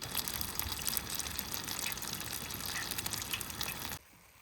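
Beer-battered sheepshead fish fries in hot oil at a camp setting, a loud, continuous hiss and crackle of bubbling oil that cuts off abruptly near the end.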